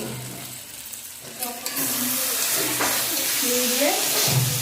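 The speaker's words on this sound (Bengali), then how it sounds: "আলুগুলো মশলার মধ্যে চাল আলু সুন্দর করে কষিয়ে নিয়েছি" Potatoes and rice sauté in spices in a pan for muri ghonto, giving a continuous close, loud frying sizzle with stirring movement through the mix.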